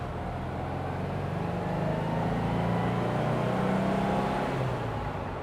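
A restored Porsche 356 pulls in second gear, a dense low engine drone and road roar from inside the car, steady and loud with a gentle rise in pace.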